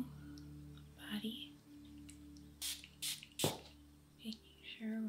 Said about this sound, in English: Going to spray your whole body